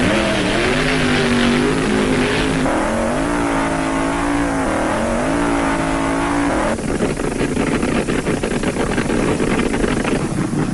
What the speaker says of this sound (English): He'll go against Mr. Norm's world-famous Dodge Charger